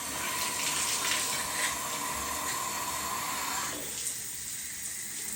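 Water runs from a faucet after a shower head install, a steady hissing splash that drops off sharply near the end.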